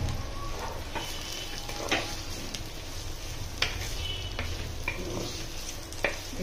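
Chopped onions sizzle and fry in a hot pan while being stirred, producing a steady close crackle broken by occasional scrapes and clinks of the utensil against the pan.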